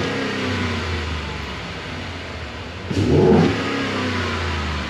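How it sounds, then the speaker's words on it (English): A Ford 5.0 Coyote V8 with a full-throttle misfire runs close by at a steady rumble, then gives one short throttle blip that swells and drops back to the running note. "Give it a couple more throttle blurps here."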